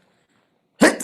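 A single sudden sneeze bursts out loud and close after near silence, a sharp broadband explosion lasting a fraction of a second.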